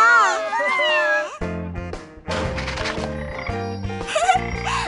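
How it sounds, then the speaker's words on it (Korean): Desert rain frog calling, a series of high, squeaky chirping and warbling calls with a toy-like, almost cat-like quality, close and fairly loud, partly overlapped by a busier layered sound in the middle. "이 개구리의 이름은 사막비 개구리."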